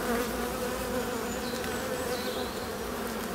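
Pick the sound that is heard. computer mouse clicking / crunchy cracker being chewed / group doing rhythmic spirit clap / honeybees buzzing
honeybees buzzing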